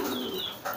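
A domestic pigeon gives a short, soft cooing call inside its loft, brief and fairly close.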